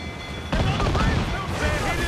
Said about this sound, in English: meet the broadside cannon